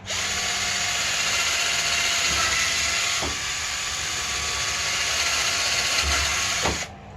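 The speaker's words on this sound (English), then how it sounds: "so now I've drilled 2 holes in these" Power drill boring holes through pallet wood, a steady loud whine running almost continuously with a brief dip mid-way and a sharp knock near the end as the bit breaks through.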